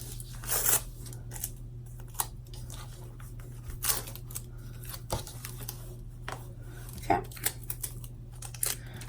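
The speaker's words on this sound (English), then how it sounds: "I'm gonna get all this tape off" Tape and fabric stabilizer being peeled and torn away from a freshly sewn double-top zipper bag, heard as scattered close crinkling rips and scratchy pulls over a steady low hum, with quiet pauses between.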